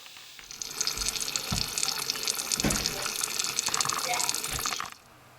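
Water rushes and splashes steadily from a radiator bleed valve for several seconds, fairly close, then stops abruptly.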